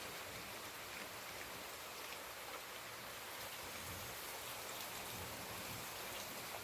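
Rainwater leaks through a broken spot and runs into a bedroom, a steady, faint, hissing wash of rain and trickling water with no pause.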